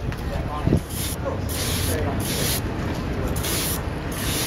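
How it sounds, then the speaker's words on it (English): Diluted ferric chloride sprayed onto hot horsehair pottery outdoors: short pulsing hisses from a sprayer repeating every half second or so, close, over broad wind-like background noise. "What are you spraying on there? Ferric chloride."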